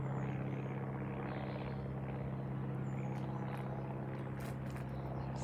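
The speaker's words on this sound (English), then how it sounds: "Small plane number 5, and look at that. Could be an Icarus C-42," A small propeller plane drones steadily overhead, its low engine hum continuous and fairly faint, as if from some distance, with no voices.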